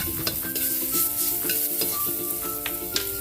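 Garlic sizzles and crackles in hot cooking oil for a chicken tinola, with a utensil repeatedly clinking and scraping against the pan up close.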